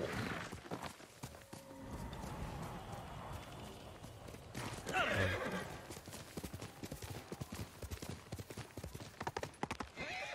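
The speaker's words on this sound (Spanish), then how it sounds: "Mira que bien salta el caballo." A horse in a PS5 video game gallops with rapid clip-clop hooves, neighs, then jumps, the hoofbeats continuing quick and close.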